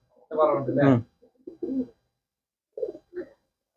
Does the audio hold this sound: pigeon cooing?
yes